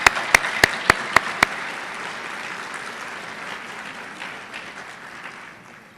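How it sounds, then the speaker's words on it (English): Audience applause fills a room at a community gala dinner, opening with six loud, evenly spaced claps close by, then a softer sustained patter of many hands that gradually fades. "I would like to give you one more round of applause for the room for all your dedication."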